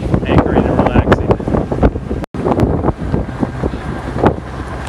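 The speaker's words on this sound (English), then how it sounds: "it's still windy" Strong wind buffeting the microphone aboard a sailboat motoring the last mile toward an Aegean anchorage after rolling in the jib in 30-knot gusts, a loud continuous roar with water and boat noise beneath and a brief dropout midway.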